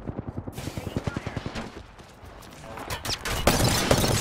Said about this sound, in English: Another team is shooting at us.